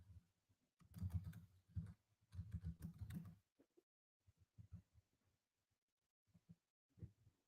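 A computer keyboard is typed on quietly in short bursts of soft, close taps. A denser burst comes early, followed by scattered keystrokes and gaps.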